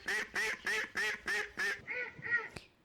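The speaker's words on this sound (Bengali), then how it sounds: "ডাক মানে হাঁস।" A duck quacks in a steady run of about eight nasal calls, loud and close, with no other sound around them.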